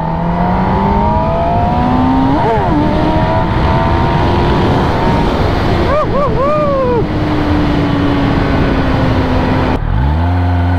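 Motorcycle called Pushpa being ridden at speed, a loud continuous engine drone with rising whines as gears climb, a sharp rev change near the end, and heavy wind rush throughout.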